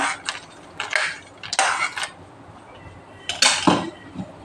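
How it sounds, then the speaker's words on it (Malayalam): Cashews and raisins tipped into a pot of green gram payasam, giving several sharp clinks and clatters of utensil on metal dishware at irregular moments, fairly close, with no talking. "ഇനി നമ്മുടെ ക്യാഷും മുന്തിരി എല്ലാം കൂടി നമുക്ക് ഇട്ട് കൊടുക്കാവേ"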